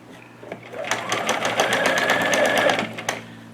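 A sewing machine stitches a curtain hem with a regular 2.5 stitch, a close, rapid mechanical rattle that builds up and runs steadily for about two seconds before slowing and stopping, with a few soft handling clicks around it.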